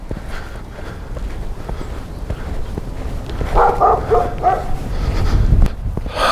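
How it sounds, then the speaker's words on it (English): A puppy barks from a distance below on a snowy trail, a short cluster of yaps rising over the crunch of footsteps on snow. "Someone's nice little puppy down there saying hello to me."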